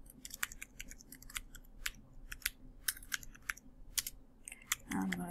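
Quick, uneven clicks of typing on a computer keyboard, bursts of keystrokes spaced out over a quiet background, fairly close and moderately soft, with no talking over them.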